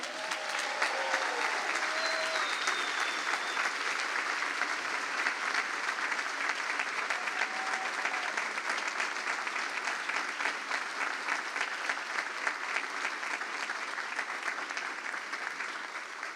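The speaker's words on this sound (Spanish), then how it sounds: "Si podés brindarle un aplauso a Dios." A church congregation applauds for a long stretch, a dense, even roar of many hands clapping at steady loudness with faint background voices.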